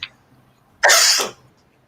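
A single sharp sneeze bursts out loudly and close, lasting about half a second against a quiet indoor background.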